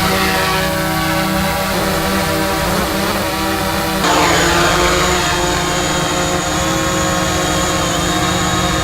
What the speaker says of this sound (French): on va écouter le bruit du Mavic Pro 2 face au Mavic Pro 1